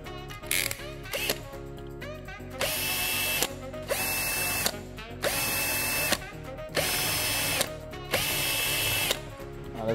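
Power drill loosening the five clutch screws on a Derbi E3 GPR engine, whirring in about five sustained bursts with ratcheting clicks and short pauses between, loud and close.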